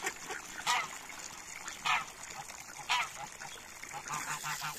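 A nesting mallard duck gives several loud, spaced quacking calls close by, with gentle water and background noise between them.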